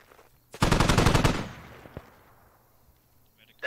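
Sustained burst of turret machine gun fire in a military shooter game, a rapid, loud string of shots lasting about a second, then a single sharp report and a fading echoing tail.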